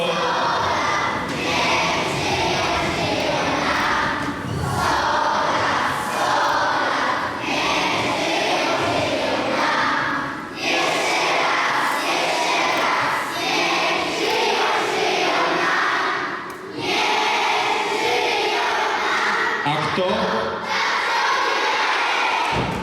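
A group of schoolchildren sings Sto lat a cappella for their grandparents, loud and unaccompanied, voices blending into a continuous crowd-like chorus in a room with a few brief pauses.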